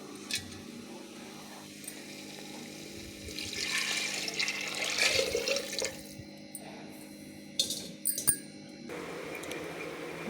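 Water bubbles and gurgles steadily as it boils in a pot nearby, ready for rice for tomato rice, with a few sharp clinks and clatters breaking in near the end.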